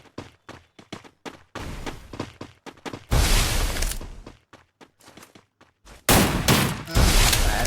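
Rapid bursts of automatic gunfire in the Free Fire battle royale game, starting as short staccato volleys and swelling into loud sustained sprays, loud and close with no talk over them.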